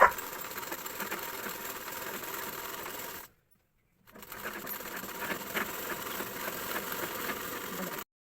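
A sewing machine stitches a sleeve lining in two bursts, about three seconds of steady rapid running, a brief pause, then another four seconds, close and even.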